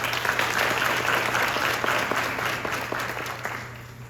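A louder round of applause from a school graduation audience, dense clapping that holds steady and then begins to fade over about four seconds, with a faint hum beneath.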